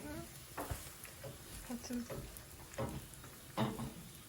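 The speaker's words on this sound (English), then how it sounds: "So we are now cooking the onion." Onion fries with a quiet sizzle in a pan, with occasional stirring scrapes and clinks, fairly faint and steady, with low voices in the background.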